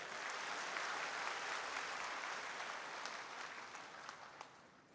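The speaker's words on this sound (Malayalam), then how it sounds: "ഒരിക്കൽ കൂടി കേരളത്തിൽ നമുക്ക് ഈ വലിയ വിജയം സമ്മാനിച്ച എല്ലാവർക്കും വേണ്ടി ഉച്ചത്തിലൊരു കയ്യടി കൊടുത്ത്" An audience at a political rally in Kerala applauds, a dense, sustained wash of clapping from a large crowd, steady and fairly distant, with no voices over it.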